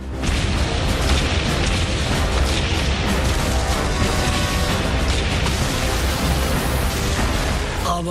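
Continuous heavy booming and rumbling from a World War II artillery barrage at the Battle of Kursk, dense overlapping blasts with no pause, loud and sustained like relentless distant guns.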